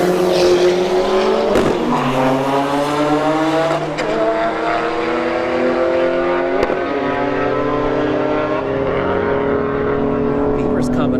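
A BMW 1 Series and a Neon SRT4 drag race at Bradenton Motorsports Park. Their engines roar loudly as they climb through the gears, with sharp shift breaks and a sustained, rising whine.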